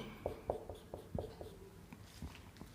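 Chalk or marker tapping and scratching on a board while a matrix example is written out, a series of short, faint, irregular strokes and taps with no talking.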